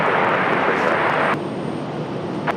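An aircraft landing on runway 23 right at Raleigh-Durham airport gives a loud, broad roar that drops abruptly to a softer rumble partway through, with no talk over it.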